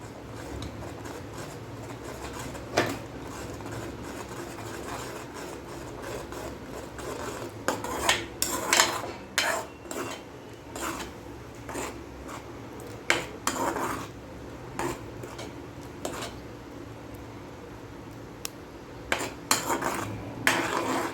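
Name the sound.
stirring pizza sauce in a pan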